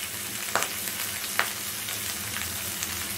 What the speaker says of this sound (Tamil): நல்லா இது எண்ணெயிலே நல்லா வதக்கி கொடுங்க.